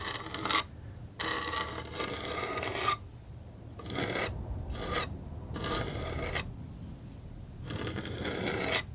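Palette knife scraping paint across a canvas in a snowy cabin landscape painting, close and soft: several rasping strokes of a second or so each, separated by short quiet gaps.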